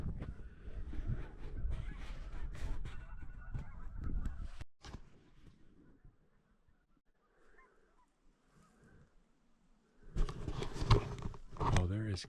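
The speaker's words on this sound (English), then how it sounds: "Oh, there is geese everywhere." Geese honking during a goose hunt with a Chesapeake retriever, loud flurries of calls and rustling up close, then a near-quiet stretch and another burst of honking, with someone talking.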